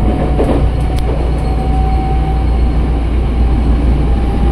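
A Tokyo Metro 6020 series KRL commuter train runs on the Cikarang line, heard from on board as a loud, steady rumble and rolling roar of wheels on track, with faint rhythmic clacks and no talking.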